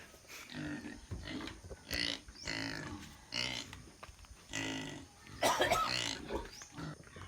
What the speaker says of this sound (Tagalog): papakain ng baboy